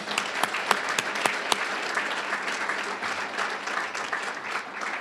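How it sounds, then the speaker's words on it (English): Audience applauding graduating members at a fraternity jacketing ceremony, a steady wash of clapping with a few sharp louder claps standing out near the front. "which I want to clap real quick for that"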